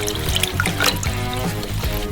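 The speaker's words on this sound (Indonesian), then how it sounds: "Tuang susunya." Milk poured into a pan of melted butter and flour roux for a cheese sauce, a steady close liquid trickle and pour with faint sizzling, running continuously without talk.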